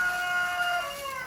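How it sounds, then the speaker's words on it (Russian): A young second rooster crows at a rural farmstead, a single drawn-out call heard at moderate distance against steady outdoor background noise. "у меня второй петух подрос"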